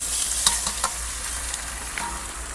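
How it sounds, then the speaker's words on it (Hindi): Chicken hitting a pan of deep-browned onions for a truck-driver-style chicken curry, frying with a steady close sizzle broken by a few sharp stirring clicks and scrapes. "तो ये चला अभी चिकन,"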